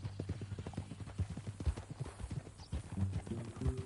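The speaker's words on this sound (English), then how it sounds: "That a new horse?" Rhythmic clip-clop of horse hooves at a steady walk in the video game Red Dead Redemption 2, fairly close and clear, with no talking over it.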